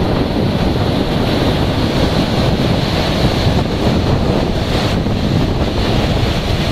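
Water released from Panchet Dam rushes out in a loud, continuous roar, a dense steady torrent heard close up with no voices.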